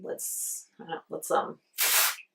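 Dry shampoo sprayed from a large aerosol bottle in one steady hiss lasting about half a second, coming after a short stretch of close talking.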